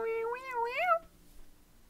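A person imitates a cat with a single drawn-out meow that rises and falls, close and clear, then quiet background follows.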